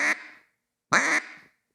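A duck call imitates a coarse hen mallard quack: two sharp, raspy blasts about a second apart, each cutting off abruptly with a short trailing echo, loud and close with no talking.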